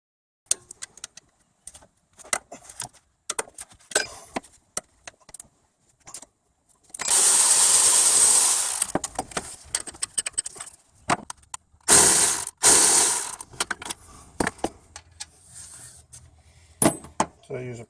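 A ratchet works the alternator bolts loose on a Toyota Highlander 2.7L I4, with quick clicking bursts and two longer loud spells of rapid ratcheting close by, plus some metallic clinks.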